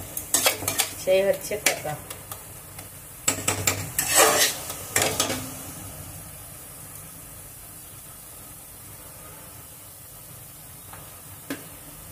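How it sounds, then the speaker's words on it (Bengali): Leafy greens (saag) stirred in a pan give a run of clattering scrapes and sizzles in the first half, then ease into a quiet hiss with one late clink; a voice speaks briefly. "একটু নাড়াচাড়া করে নেব"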